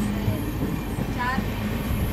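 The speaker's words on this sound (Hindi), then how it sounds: "प्रयागराज जंक्शन पर अभी अपनी ट्रेन का यहाँ पे अराइवल होता हुआ" The Mahabodhi Express rolls near Prayagraj Junction, a steady rumble of wheels and carriage noise throughout with a brief squealing tone in the middle, heard from on board.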